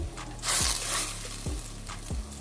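Onions fry in a pan for chicken do piaza, a steady close sizzle with a few dull spatula knocks and a brief surge of hissing as they are stirred.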